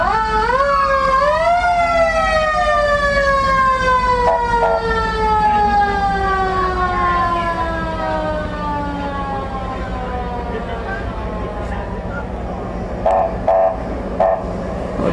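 A loud wailing ambulance siren sweeps up and then slowly winds down, passing close by at a Fourth of July parade in Alburg, with engine rumble underneath.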